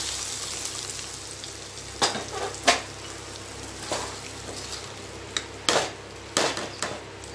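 Curry leaves dropped into hot oil with popping mustard seeds, dried red chilli and asafoetida for a green banana kootu, a steady close sizzle with several sharp crackling bursts scattered throughout, no talking.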